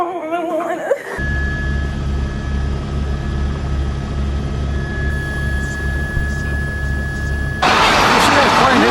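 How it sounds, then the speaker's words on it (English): An airplane in a 9/11 scenario roars with a loud, steady jet-engine drone, then crashes into a building with a sudden harsh burst of broadband noise that keeps rumbling to the end. "You see that plane hit the building?"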